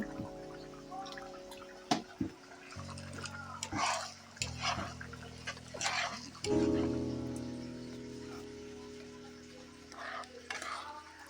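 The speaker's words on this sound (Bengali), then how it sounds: "এগুলোকে ভালো করে মিশিয়ে আমি কষিয়ে নিব" Washed rice and red lentils are stirred together in a cooking pot with boiled mung dal for village-style bhuna khichuri, giving irregular scraping and wet shuffling strokes over a steady low hum, with a voice speaking now and then.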